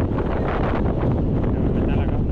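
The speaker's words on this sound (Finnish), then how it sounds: "Täällä on aivan älytön tuuli." Strong wind blasts across the rocky summit of Terävä Kivi fell in Lapland, a loud, unbroken rumbling roar battering the microphone throughout.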